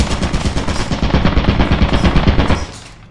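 Rapid automatic turret gunfire in Lethal Company, a loud close stream of evenly spaced shots for nearly three seconds before stopping abruptly, no voices.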